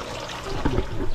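Running water from a tap left on, a steady rushing and splashing that swells in the second half, close and fairly loud with no voices.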